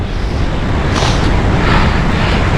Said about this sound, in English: You probably can't hear this because it's windy as hell.